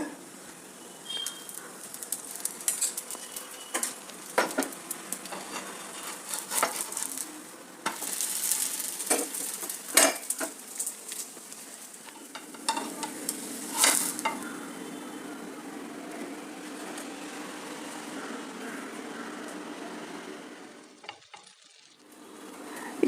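Holige flatbread sizzling in oil on a hot pan, a steady close frying hiss with scattered crackles and stirring scrapes, louder bursts midway, fading near the end.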